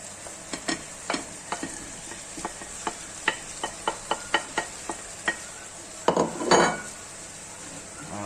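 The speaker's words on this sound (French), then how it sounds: "Maintenant que la viande a bien été saisie, on va rajouter les légumes." Carrots, onions and bean sprouts stir-fried with seared meat in a pan, sizzling steadily under a regular series of sharp utensil scrapes and taps, ending in a louder tossing burst.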